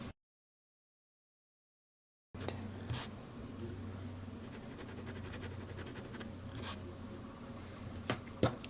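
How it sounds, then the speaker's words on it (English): Fountain pen loaded with Noodler's Polar Brown ink scratching across Koh-i-Noor sketch paper, a soft continuous close-up scribbling with a few sharper strokes after a brief silent start. "Now the writing sample on the Koh-i-Noor sketch paper"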